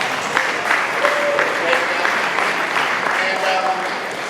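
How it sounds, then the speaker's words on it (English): An audience claps for the organizers at a demos and drinks presentation night: a full, steady round of applause from a crowded room, sustained at an even level for several seconds with a faint murmur beneath. "Big round of applause for that"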